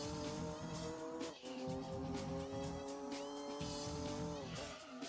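A Gran Turismo 2 car drives with a loud, steady engine whine that shifts pitch through gear changes, with tire squeal mixed in, heard up close without talk.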